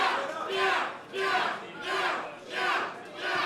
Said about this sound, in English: And our crowd warms up to the action.